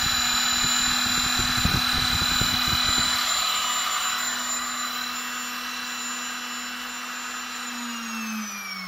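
An electric motor driven by an NFLIXIN VFD controller via PWM spins up with a steady loud whine and layered high tones, rough low rumble at first, then the pitch slides slightly near the end, continuous and close.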